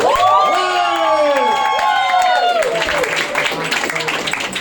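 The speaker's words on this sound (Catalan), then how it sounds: "Un aplaudiment per la Marta, sisplau!" At a Catalan stand-up comedy show, the audience bursts into loud whoops and shouted cheers. These give way to sustained applause and crowd noise that continue to the end.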